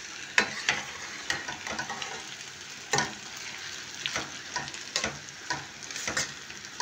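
Bulgur being roasted in a pan, giving a soft, steady sizzle broken by repeated scraping and clicking stir strokes at irregular intervals, fairly quiet and close, with no talk.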